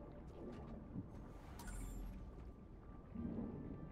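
Rain falls steadily with a low rumble of thunder in the Stellar Blade video game, a soft, continuous wash with brief swells, no voices.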